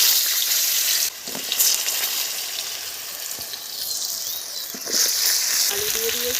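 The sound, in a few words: potatoes frying in oil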